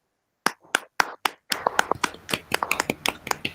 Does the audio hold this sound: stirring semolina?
no